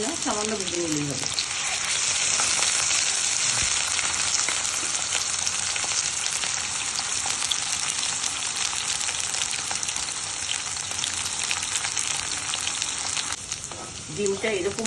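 Eggs and potatoes fry in oil in a pan, a steady loud sizzle running almost the whole time with faint stirring; talk is briefly audible at the start and end.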